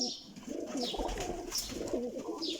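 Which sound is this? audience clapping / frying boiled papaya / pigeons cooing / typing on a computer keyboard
pigeons cooing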